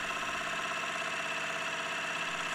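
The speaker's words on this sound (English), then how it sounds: "the gears run a little quieter, but the engine still runs very rough and needs some serious balancing." A rhombic Stirling engine running rough and unbalanced, with a steady close mechanical whir and rapid rhythmic knocking vibration from its gears and moving parts, continuous throughout with no voices.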